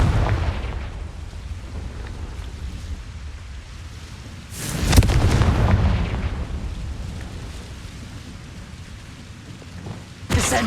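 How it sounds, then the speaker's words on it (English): A Confringo spell bursts in Hogwarts Legacy with a deep rumbling explosion that swells midway and trails off over a low ambient bed, followed by a sharp crack at the very end. "Confringo."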